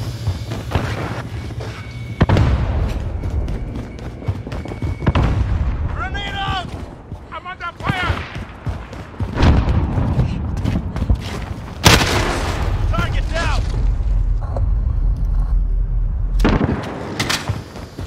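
Grenade explosions and gunfire in the Modern Warfare multiplayer video game: heavy booms and blasts mixed with bursts of rifle fire, loud and close, with sustained rumble between hits and voices shouting commands.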